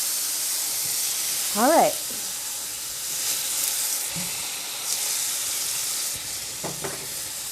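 A cheeseburger patty sizzles on a hot cooking surface, a steady close frying hiss running throughout, while a voice speaks briefly over it and a few small clinks sound.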